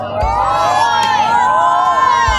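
Mixed crowd at a Mustang and Lightning cruise-in car show, cheering and shouting for team boy or team girl, loud and sustained with whoops and a couple of sharp bursts.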